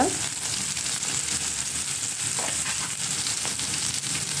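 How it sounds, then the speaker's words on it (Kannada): Onions with salt and turmeric fry in a pan, giving a soft continuous sizzle with a few faint stirring clinks and no talk. "ಹಾಕೊಂಡು ಫ್ರೈ ಮಾಡ್ಕೋಬೇಕು."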